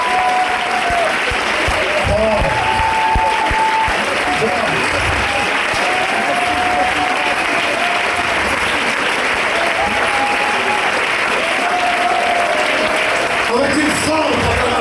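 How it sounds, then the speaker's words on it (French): A church congregation at a Sunday service claps in sustained, dense applause for the whole stretch, loud and close, with a voice sometimes rising over the clapping. "Remercions-le avec une forte acclamation."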